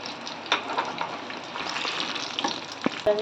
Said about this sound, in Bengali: এরকম লাল লাল করে ভেজে নিতে হবে